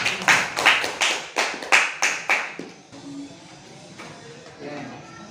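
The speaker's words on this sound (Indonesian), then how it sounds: "Ayo, tepuk tangan ke kelompok 5." Students in a classroom clap for a presenting group: about a dozen distinct, rhythmic claps close by, then the clapping stops and quiet murmuring follows.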